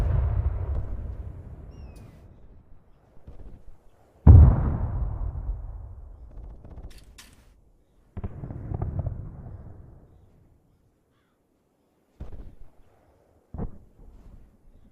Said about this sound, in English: It looks like we got tanks shooting shells in